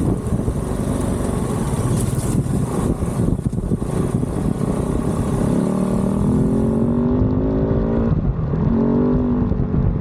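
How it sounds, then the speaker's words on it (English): Kove 450 Rally motorcycle ridden on a desert rally event near Moab, a loud, steady engine drone that rises in pitch as it accelerates, heard close with rushing wind. "this happens to be my last ride of the Kove 450 Rally"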